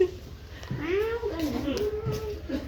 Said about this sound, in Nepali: यो चाहिँ बिरालो हेर्न सक्नुहुन्छ